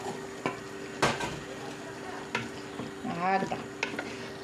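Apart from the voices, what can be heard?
onions and tomatoes frying in a pan for chakhchoukha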